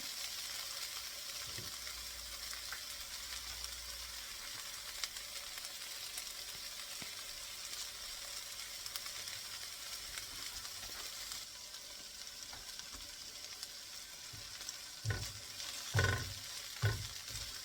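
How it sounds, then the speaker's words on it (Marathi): Green peas and a spice mixture fry and sizzle steadily in a pan for stuffed capsicum, with a low continuous hiss and occasional scraping stirs and knocks of a spoon toward the end, close up and without talk. "आपलं वाटाणे आणि मिक्सचर फ्राय करून झालं चांगलं."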